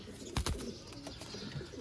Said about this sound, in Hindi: ये है जी कारी साहब वाले गोल्डन कबूतर दोस्तों